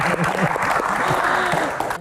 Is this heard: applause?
yes